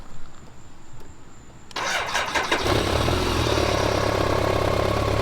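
Modern motorcycle going through its startup sequence: a quiet hum, then the starter kicks in and the engine catches, settling into a loud, steady idle close by.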